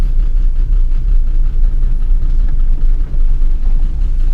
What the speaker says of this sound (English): the valve train just sounds like absolute shit